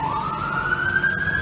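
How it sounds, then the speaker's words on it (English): An ambulance siren on a London street near Westminster Cathedral, a loud continuous wail sliding upward in pitch over low traffic rumble. "there is some ambulance"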